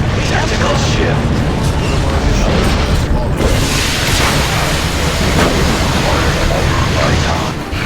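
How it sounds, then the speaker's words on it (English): Grenade explosion in the sci-fi strategy game Warhammer 40,000: Dawn of War II, a loud, dense rumbling blast that sustains through battle noise, with voices calling out over the din. "Launching grenade. Grenade!"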